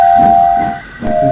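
A steam engine whistle gives a loud, sustained tonal blast over a soft hiss, dips briefly and then sounds again, close and alone.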